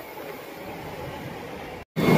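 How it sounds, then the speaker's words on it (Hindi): A Delhi Metro Yellow Line train arrives at a station platform, a steady broad rumble and rush of the moving train close by, ending in a brief cut before louder noise resumes. "आ गई है मेट्रो"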